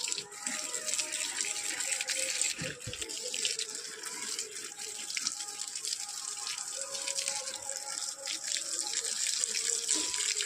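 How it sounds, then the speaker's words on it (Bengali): Garden plants being watered gently, heard as a continuous soft stream of water splashing and pattering for about ten seconds, even and close. "হালকা হালকা করে জল দিয়ে দিই।"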